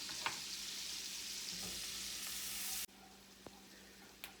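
Onions and jalapenos frying in a pan, a steady soft sizzle with a few light clicks of stirring, quiet and close, then a sudden drop to a fainter sizzle partway through.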